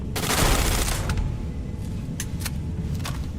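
A turret in the video game Starfield fires a rapid burst of gunfire, loud and close at first, followed by a few scattered single shots as the barrage fades.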